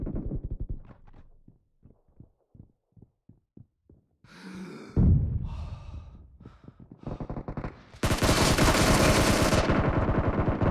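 Gunfire in the Battlegrounds mobile game: a rapid string of single shots, then a burst of loud automatic fire with explosive blasts, ending in a dense, sustained roar of shooting.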